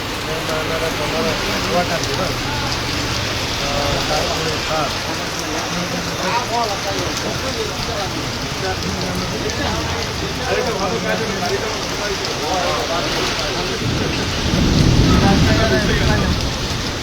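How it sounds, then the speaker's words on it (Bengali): Heavy rain pouring down in Rupnarayanpur, a dense continuous hiss of rainfall drumming on surfaces, with a deeper rumbling swell near the end. "আমাদের এখানে তো অলরেডি বৃষ্টি চলছে"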